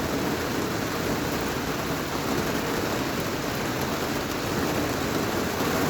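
Heavy, steady rain pours down over Gdynia during a Genoa low, a dense continuous hiss of downpour filling the scene at constant loudness with no voices.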